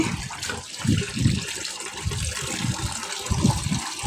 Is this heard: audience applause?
no